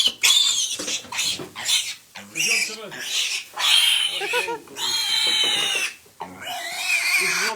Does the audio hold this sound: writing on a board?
no